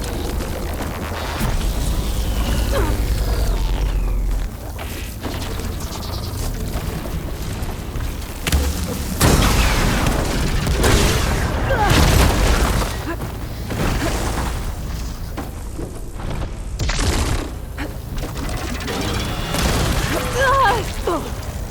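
Heavy booms and bursts from plasma explosions in Horizon Forbidden West punctuate a dense, loud stretch of combat noise, with several strong blasts landing in the middle section amid continuous rumbling and crashing.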